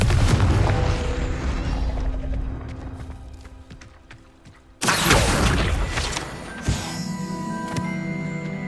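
A Confringo fire curse explodes in Hogwarts Legacy, a sudden loud blast cutting in midway after a quieter stretch of rumbling game sounds, followed by crackling debris and a sharp secondary hit.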